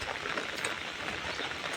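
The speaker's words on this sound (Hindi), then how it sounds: "बारिश भी हो रहा है" Heavy rain falling outdoors during a motorbike ride, a dense, steady hiss of drops with no gaps, fairly close and even in loudness throughout.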